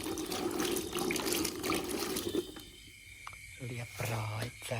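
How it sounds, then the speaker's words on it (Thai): Warm water running from a tap or being poured into a pot for blanching straw mushrooms, a steady splashing stream that stops midway, followed by someone talking. "ใส่น้ำอุ่นลงไปแล้ว"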